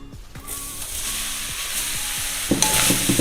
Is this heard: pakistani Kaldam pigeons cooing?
no